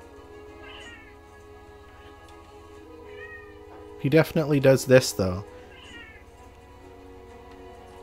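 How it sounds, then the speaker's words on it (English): A cat lets out a quick run of five or six loud, close meows lasting about a second, between stretches of someone talking. "He constantly meow for additional snack."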